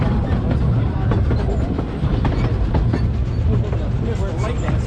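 The Cripple Creek train rolls along its rails with a dense, steady rumble and rhythmic clatter of wheels over track, heard up close from on board with faint voices mixed in.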